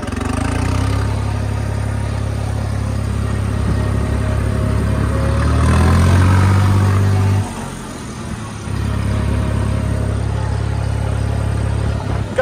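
A tractor straining to pull a stuck trolley free: a loud, steady diesel engine drone that swells into a heavy rev midway, briefly dips, then settles back into a sustained rumble, with no voices.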